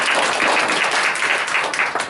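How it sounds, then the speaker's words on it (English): Audience applause at a school DARE graduation, a dense, steady patter of many hands clapping at close range that keeps going for about two seconds with no talking over it. "a round of applause for taking that"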